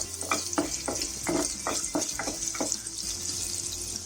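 Ginger juliennes and whole green chilies sautéing in hot oil with spices for a Kerala-style chicken stew, a steady sizzle with about eight rhythmic stirring scrapes close by.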